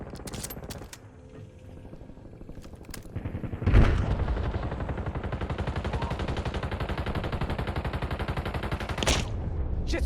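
Sustained automatic gunfire from the Call of Duty: Warzone video game, starting with a few isolated shots, then a loud burst that settles into a rapid, steady stream of fire lasting several seconds, with brief heavier booms near the end.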